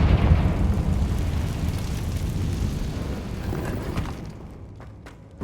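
A Confringo blasting spell in the video game Hogwarts Legacy sets off a loud, rumbling explosion that decays slowly over several seconds, with faint crackles as it fades.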